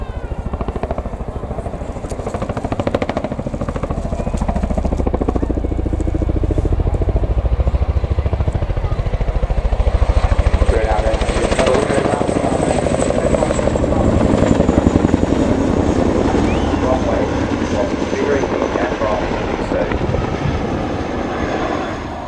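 At an air display, a Boeing CH-47 Chinook helicopter flies low toward the crowd, its heavy rotor thump and engine roar steady and loud throughout, swelling slightly as it passes nearest.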